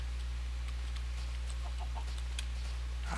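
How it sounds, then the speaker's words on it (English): Minecraft chicken clucking in short soft bursts over a steady low game hum, faint and somewhat distant, with a louder rustle at the very end; no one speaks. "Okay, that's just the chicken."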